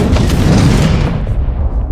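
Satellites are blasted apart in an action film scene, a loud, dense roar of explosive noise that fills the whole two seconds before easing slightly toward the end.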